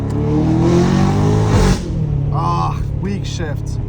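A straight-piped BMW M5 Competition engine revs loudly up close, then the throttle is released early and the note drops off into lower rumbling pops, with a person talking over it.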